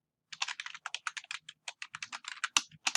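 Typing of a username and password on a computer keyboard to sign in to a university library account: about three seconds of rapid, close keystrokes in uneven bursts with brief pauses, and no voices.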